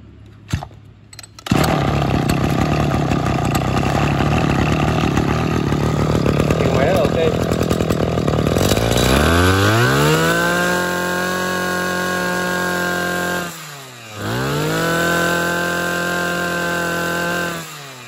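A professional two-stroke grass trimmer from a Japanese-made lot (Mitsubishi, Komatsu, Echo Kioritz, Maruyama, Ryobi) is pulled to life after a couple of loud starts, then runs in a steady near drone with throttle revving up and a brief drop back.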